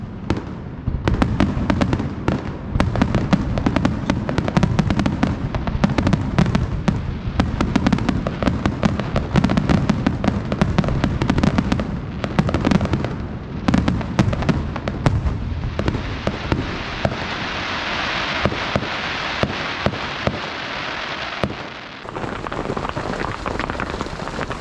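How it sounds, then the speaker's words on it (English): Bastille Day fireworks at the entrance to a Brittany port: a long run of rapid bangs and crackles, loud and nearly continuous, easing into a hissing fizz near the end. "because there's going to be fireworks."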